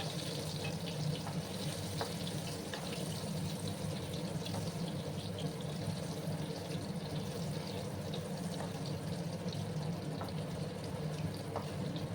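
Potatoes fry in a pan with an even, continuous sizzle and crackle that holds at a constant level with no talk.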